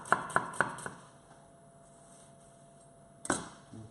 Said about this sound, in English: we're going to chop the onion nice and fine